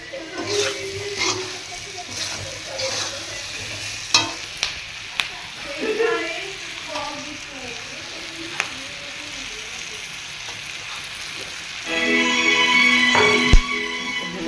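Fish curry masala with green chillies fries in a pan, with a steady low sizzle and stirring scrapes, some brief clinks and a louder burst of frying toward the end; a voice talks faintly in places.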